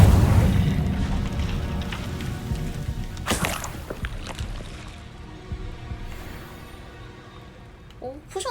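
Incendio fire spell blasts in the video game Hogwarts Legacy: a loud rumbling boom at the start fading into a low roar, a sharp burst around the middle, and brief tonal game effects near the end.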